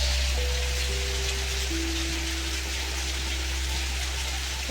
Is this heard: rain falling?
yes